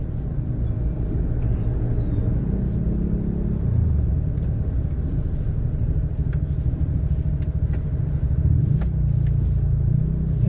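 Dense stop-and-go road traffic on EDSA in Manila, a steady low rumble of car and bus engines close by with occasional revving swells, continuous throughout with no talking.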